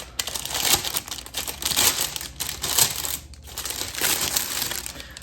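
Cellophane wrapping is peeled and crinkled off a new pickleball paddle, a dense close-up crackling and rustling in uneven bursts with brief pauses.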